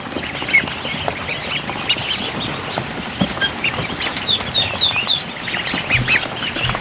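Ducks kept in a barn quack steadily in a noisy, dense chorus, with many overlapping calls and honks close by and no talking over them.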